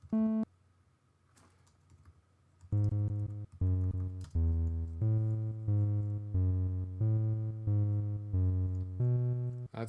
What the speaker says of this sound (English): I'm going to start typing it in.